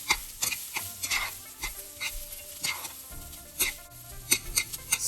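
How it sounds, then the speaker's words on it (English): Broccoli and chow mein noodles tossed in a hot pan with Chinese sausage, with irregular clinks and scrapes of a utensil against the pan over a steady sizzle of frying. "Stir for 2 minutes."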